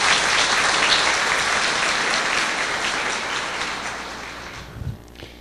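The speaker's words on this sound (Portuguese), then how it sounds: "Nossa salva de palmas para eles." An audience at a Spiritist lecture claps loudly at first, the applause thinning and fading out toward the end, with a brief bump of noise just before it stops.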